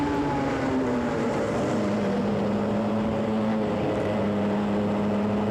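Racing karts at Whilton Mill during a Club100 Sprint 60 race drone steadily around the track, a continuous engine whine shifting slightly in pitch as they pass.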